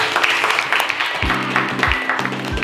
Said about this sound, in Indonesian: Iya, tepuk tangan untuk Mas Ifader.